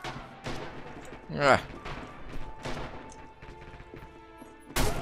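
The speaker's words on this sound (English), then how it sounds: "I could tell that it was a friendly because of the way that they were shooting, like the sound of the gun" Friendly soldiers' rifle fire in the World War II shooter Red Orchestra 2, several sharp shots and a crashing burst at irregular intervals, fairly close, with a player's voice grunting and talking between them.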